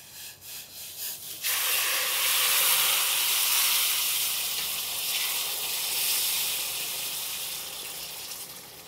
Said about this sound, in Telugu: నీళ్ళు పోసేద్దాం.